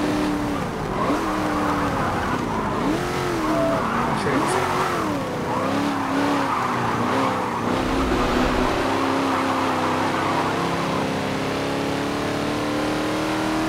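Racing cars in a video game race, engines revving and shifting pitch continuously with brief tire squeal as the field jostles for position, loud and steady throughout.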